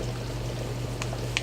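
Half a cup of room-temperature water trickles steadily into a bowl holding a packet of unflavored gelatin, a soft continuous pour with a couple of faint clinks near the end.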